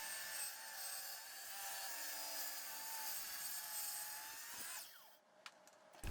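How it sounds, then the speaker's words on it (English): A Kreg plunge-cutting track saw rips through a sheet of plywood, a steady broadband whine of blade on wood sustained for about five seconds before the motor cuts out and spins down, leaving a few faint knocks. "I finally upgraded and bought a Kreg adaptive cutting system, their version of a plunge cutting track saw."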